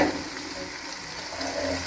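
Ground chilli, cumin, garlic and coriander paste fries in a pan, a steady close hiss with soft scraping as it is stirred, no voices.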